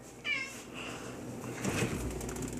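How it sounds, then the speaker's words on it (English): A house cat meows several times in a kitchen, with a clear rising call early and further softer mews, fairly near over low background room noise and faint handling sounds. "Yeah, the cat talks to me."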